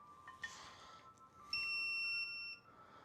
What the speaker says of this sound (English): Is it supposed to beep in diode mode?